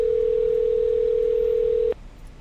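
A steady, loud telephone dial tone hums for about two seconds, then cuts off abruptly, followed by quiet line hiss, as a call to a trucking recruiter is placed.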